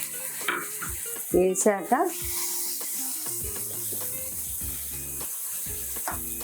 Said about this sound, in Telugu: ఇప్పుడు టమాటా ముక్కలు 1 కప్పు వేసుకోవాలి.